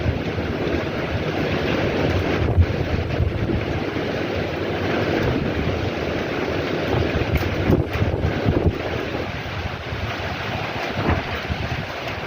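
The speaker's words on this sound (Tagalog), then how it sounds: "Malakas na rin ang hangin dito sa aking veranda." Strong, gusting typhoon wind on a veranda in Macau roars continuously, buffeting the microphone with a dense, rumbling rush that swells and eases slightly throughout.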